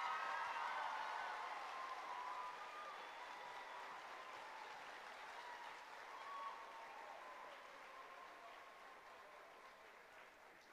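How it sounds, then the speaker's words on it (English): Audience applauding at a ballet competition awards ceremony, a broad, even wash of clapping that starts fuller and slowly thins and fades over about ten seconds, with faint crowd voices beneath. "Let's please give them a round of applause."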